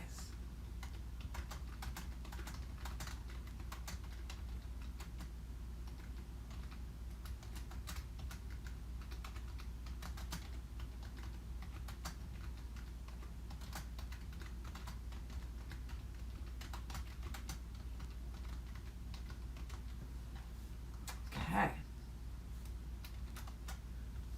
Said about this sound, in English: just going to type in this right here